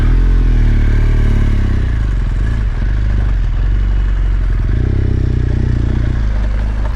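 A BMW R1200GSA adventure motorcycle in enduro mode rides off-road on single track, its engine droning loudly and continuously with rough clatter and shifts in throttle, close to the rider.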